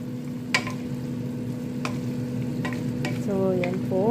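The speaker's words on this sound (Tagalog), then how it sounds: "Halo-haloin ko lang po itong aking adobo, mga kananay." Chicken afritada being stirred in a hot pan: a constant frying sizzle and hum with sharp scraping clicks of the utensil at intervals, close up.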